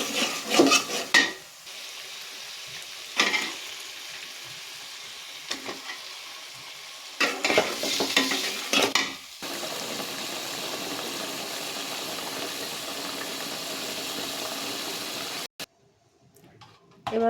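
Bottle gourd frying in cooked-down spices in a pan, a steady close sizzle interrupted by bursts of louder stirring and scraping, then cut off near the end.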